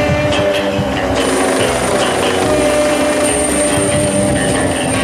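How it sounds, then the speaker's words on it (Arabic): A helicopter lands, its engine and rotor producing a loud, continuous whine and roar with a steady high tone throughout, close and unbroken. "حط طائرة عمودية رحالها"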